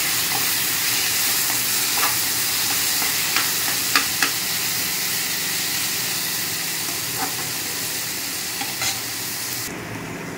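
Spice paste (masala) sizzles and fries steadily in oil while being stirred, with scattered clicks of the spoon against the pan, close and continuous without voices.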